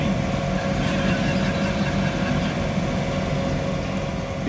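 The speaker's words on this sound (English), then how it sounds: "allowing the augers to clear the snow" A John Deere 3046R cab tractor runs a snow blower through wet, heavy snow, its engine holding a steady, close, continuous drone under load with the auger churning throughout.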